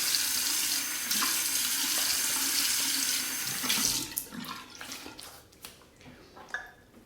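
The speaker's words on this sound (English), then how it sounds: "Quick rinse." Tap water runs steadily into a sink to rinse a Razorine Flatboy razor, a loud continuous splash that breaks into uneven gushes and drips as the flow is disturbed near the end.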